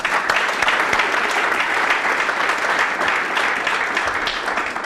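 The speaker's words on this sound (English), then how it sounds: "We can applaud for them." Audience applause at a Digital Inclusion Fund presentation, honoring partner organizations: steady, dense clapping from a sizable crowd, loud and sustained throughout with no voices over it.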